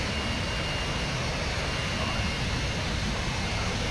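Continuous roar of a BAE Hawk jet engine in the Prepar3D flight simulator on approach, a steady broadband whine and rumble at even loudness throughout.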